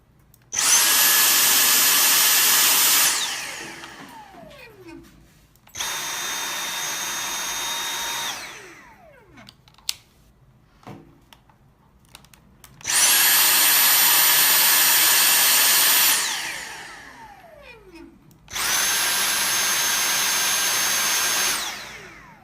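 Dyson V6 and V7 cordless stick vacuum cleaners run on regular in four separate bursts, a loud high whine that spins up and winds down between short pauses.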